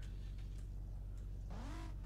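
A car engine in a Roblox street-racing roleplay game gives a short rev over a steady low engine drone, its pitch sweeping upward near the end; moderately loud and alone.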